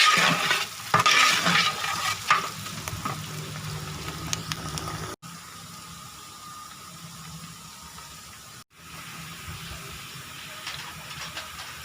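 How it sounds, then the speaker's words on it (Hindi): Onions sizzling and browning in hot oil in a pan while chicken korma is cooked, a steady close hiss with scattered stirring scrapes, loudest early and settling into a softer, even sizzle. "प्याज डाल दिए। अब इसको हम ब्राउन करेंगे।"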